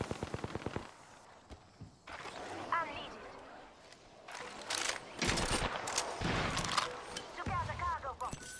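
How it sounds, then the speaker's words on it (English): Rapid video game gunfire in a tactical shooter, bursts of sharp automatic shots coming in clusters over several seconds, fairly close and loud, mixed with mechanical clatter and a brief radio-style voice. "I'm getting shot at"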